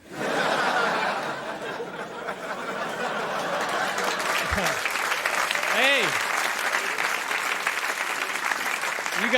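Applause and laughter from a late-night television studio audience after a stand-up comedy joke, a broad continuous roar of clapping with chuckles and a voice rising through it, holding steady throughout.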